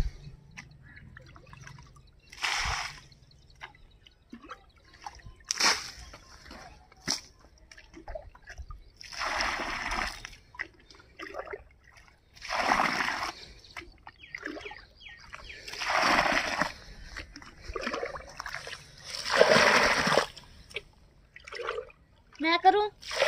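Water splashes and trickles as a vegetable garden is watered, coming in repeated gushing bursts, with people talking in between and over it.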